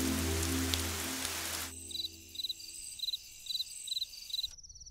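Steady rain falls outside in a dense, even hiss at close range, then cuts out abruptly to leave a faint pulsing insect-like chirping in a quiet background.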